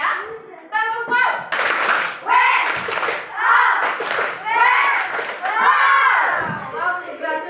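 A classroom of children claps out a rhythmic 'tepuk wow' cheer in bursts, with kids' voices shouting and chanting loudly along with the claps.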